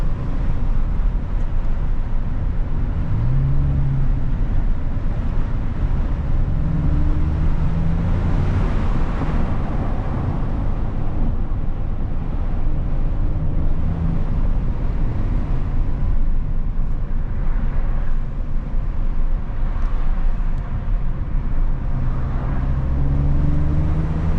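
A 2025 Audi S7 sedan accelerating in dynamic mode, its engine a steady, loud low roar with road and wind noise heard from inside the cabin, no talking.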